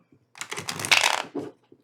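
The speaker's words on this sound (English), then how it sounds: "I'll go ahead and give one quick shuffle as feeling called to do" A deck of tarot cards is given one quick riffle shuffle, a short dense burst of crisp flapping card noise that ends in a few soft taps.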